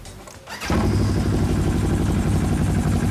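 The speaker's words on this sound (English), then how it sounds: "So Justin, the Muzzy exhaust sounds awesome." A motorcycle engine fires up after a brief starter whir, then settles into a loud, throaty, rumbling idle through a deep-toned aftermarket Muzzy exhaust.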